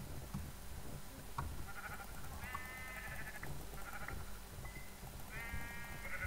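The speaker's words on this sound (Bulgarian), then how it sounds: "Овце! Мрете! Ви, така хубави животни." Sheep in the video game Minecraft bleat several times in short, nasal calls spaced a second or so apart, set over a steady background of game ambience with no talking.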